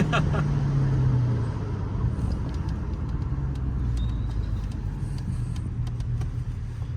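A car engine hums and rumbles steadily at close range, a low burbling drone that swells slightly early on and holds throughout.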